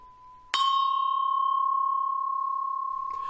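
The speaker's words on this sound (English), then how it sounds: "You can make the speed of that tremolo slow by very slight squashing" A struck tubular chime rings with one sharp attack and then a long, pure sustained tone that slowly fades, wavering in a gentle tremolo from slight squashing.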